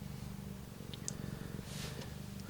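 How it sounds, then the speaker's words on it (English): A cat purrs loudly and close by in a low, steady rumbling pulse, with a couple of faint higher clicks over the top. "She's purring really loud today."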